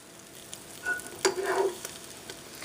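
Pats of butter melting in a pan with milk for a white sauce, a soft sizzle that swells briefly with a few faint clinks, close and quiet.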